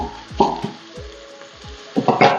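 Garlic cloves cook gently in a pan with a soft sizzle under scattered knocks and clicks of a utensil against the pan, swelling a little near the end.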